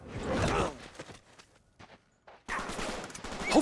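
Gunfire from the video game Uncharted 3: loud, dense bursts of shooting open the clip, fade into a near-silent gap, then return as another heavy volley near the end.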